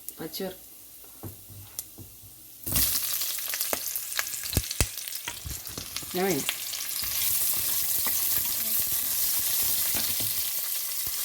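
Onion pieces hit hot oil in a pan for paneer biryani, a broad sizzle building after a quieter start, with stirring clinks and a voice talking over the frying.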